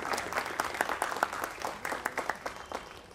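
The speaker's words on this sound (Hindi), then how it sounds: "एक बार जोरदार तालियां इन सभी के लिए।" A short burst of applause from a small theatre audience after a play, brisk irregular clapping that rises and then tapers off.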